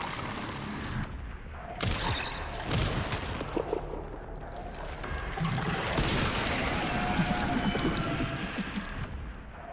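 Gunfire aimed at pods in the Resident Evil Requiem video game, a dense run of loud, close shots with crashing impacts and watery splashes layered over a busy game soundscape for nearly ten seconds.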